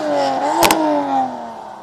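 A BMW M4 pulls away at a large car meet in northern France, its engine note rising then falling as it drives off, with a brief sharp clatter partway through.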